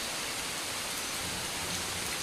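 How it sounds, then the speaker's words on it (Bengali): Light drizzle falls steadily outdoors at night, a soft, even hiss of fine rain with no distinct drops, heard alone and continuous. "দেখুন কীরকম ঝিরঝির করে বৃষ্টি পড়ছে।"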